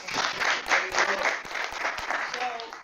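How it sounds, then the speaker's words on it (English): A room of attendees at a real estate sales meeting applauds a presenter, with brisk, fairly close clapping that swells and eases over a few seconds and some murmured voices underneath. "Give Lois a round of applause."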